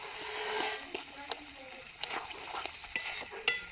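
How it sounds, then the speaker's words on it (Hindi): Masala for a desi duck curry frying in a pan, a soft steady sizzle with the scrape and tap of a spoon stirring at irregular intervals, fairly quiet. "मसाला जब तक ब्राउन कलर नहीं हो जाता है तब तक दोस्तों हम लोग फ्राई करेंगे।"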